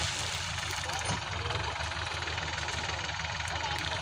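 Several tractor engines strain to push a sugarcane trolley stuck in a field, one pushing from the front in reverse. They give a steady, loud, rumbling drone that holds throughout, with a knocking throb under the roar.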